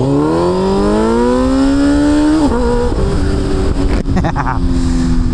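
Loud, raw Kawasaki Z900 SE motorcycle engine with its dB killer removed, roaring close up, pitch climbing steadily, then dipping and rising again with a harsh exhaust rasp.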